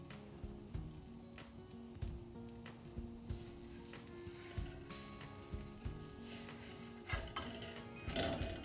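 Aloo paratha sizzles on a hot pan, giving a steady frying hiss scattered with soft ticks and a louder crackle at the close.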